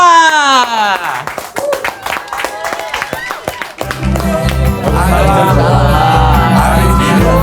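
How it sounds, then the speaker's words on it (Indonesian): A studio audience claps and cheers as a guest is welcomed onto an Indonesian horror talk show, loud sustained applause swelling under music and voices, with presenters talking over it. "Kita kasih tepuk tangan lagi dong."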